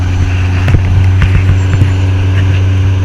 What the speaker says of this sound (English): That's a big fucking truck behind us.